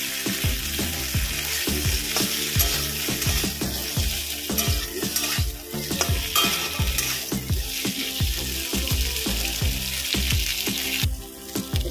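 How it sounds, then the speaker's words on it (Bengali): Potatoes frying in butter in a kadai, a continuous sizzle broken by frequent clanking strokes of a utensil stirring against the metal pan. "এবার আলুটা একটু ভেজে নেব"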